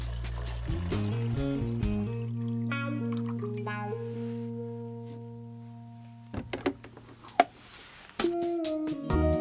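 Fresh water poured into the water tank of a Nespresso Inissia coffee machine, a close stream rising in pitch as it fills, followed by quieter drips and a few knocks and clatters near the end.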